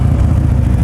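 A Harley Davidson Ultra Classic motorcycle engine with 56,732 miles runs close and loud, a deep, steady low rumble with an even pulsing throb.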